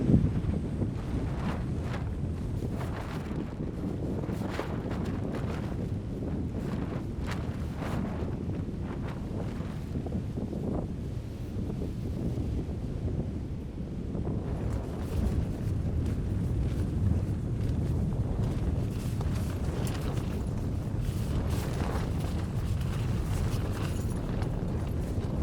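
Steady wind buffets the microphone at a wilderness camp, a continuous low rumble with gusts rising and falling throughout, with no voices.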